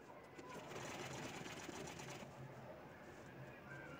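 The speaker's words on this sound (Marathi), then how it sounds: "इथे पायपिंगची पट्टी आपल्याला अशी दुमडून शिवायची आहे." Sewing machine stitching a folded piping strip for a handmade bag, a steady dense whirr that runs throughout with a louder burst early on, while a person talks over it.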